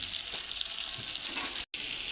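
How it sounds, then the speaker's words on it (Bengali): Eggplant (brinjal) fritters fry in oil with a dense, even sizzle close by. The sizzle cuts out for a brief moment near the end. "বেগুন ভাজি করা হইতেছে।"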